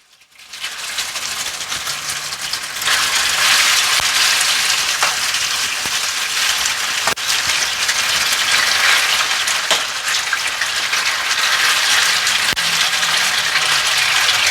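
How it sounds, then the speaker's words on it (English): Pork hits hot olive oil in a pan for a Greek bekri meze, setting off a loud, steady sizzle that swells within a few seconds and crackles on without a break, with no talking. "I have my olive oil, heat it a little, and now I'm gonna add my pork"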